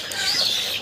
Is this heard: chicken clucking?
yes